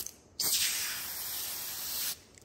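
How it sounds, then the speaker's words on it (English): Windshield cleaner sprayed onto a microfiber cloth fitted to an external paddle, a single sustained close hiss lasting under two seconds, alone and fairly loud. "you go ahead and soak this with our cleaner"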